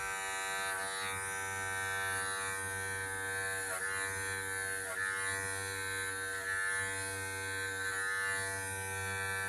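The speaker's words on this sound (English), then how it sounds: "always remember to pull away the clipper from the skin" An electric hair clipper buzzes steadily and close while cutting hair during a home haircut, a constant high-pitched hum with faint changes in tone as the blades move through the hair.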